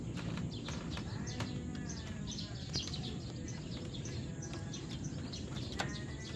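Birds calling and chirping in repeated short notes by Laguna de Bay lake in the morning, faint and scattered over steady outdoor background noise.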